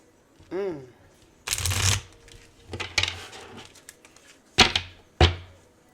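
Several quick bursts of cards being shuffled and riffled, separated by short pauses, with a brief voice-like tone at the start.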